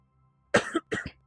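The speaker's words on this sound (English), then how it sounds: "Sorry, I got a bit of a cough." Two short, close coughs, one straight after the other, from a man in a quiet room, with no talking around them.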